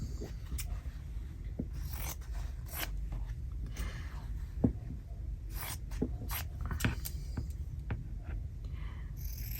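Scissors snipping through paper at a stitchery journaling desk, a run of close, crisp cuts with short pauses between them over a low background hum.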